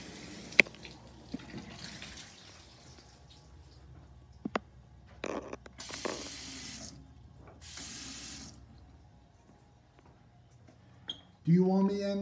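Water from an American Standard shower head in a Hampton Inn hotel bathroom in Frankfort, Kentucky runs in hissing bursts between taps and clunks, with voices speaking near the end.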